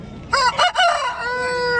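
A rooster crows once, loud and close, a long cock-a-doodle-doo with a drawn-out final note and no other voices, at a country chicken market in Nallapadu, Guntur.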